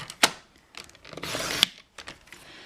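Card stock for a pop-up Christmas card is cut at the 5.5-inch mark with a trimmer, giving a couple of short sharp snaps and a rasping slide of the blade, close and fairly quiet, with no talking.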